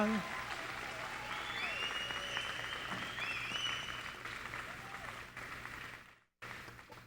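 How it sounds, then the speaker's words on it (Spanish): Audience applause for the athletes at a CrossFit gym event in Aruba, steady clapping with some cheering voices over it, running for several seconds before a brief dropout and a short resumption. "Um forte aplauso para a iniciativa para todos os deportistas."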